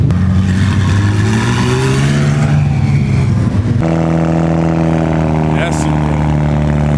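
A motorcycle engine revs loudly and continuously up close at an exotic car meet, its pitch climbing then steadying into a sustained high idle, with people talking over it.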